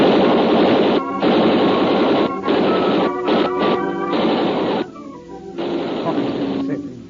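Gunfire sound effect in a 1940s radio drama, Adventures of Frank Race, a loud, dense barrage of shots and crashes in bursts with brief gaps, muffled and band-limited like an old broadcast recording.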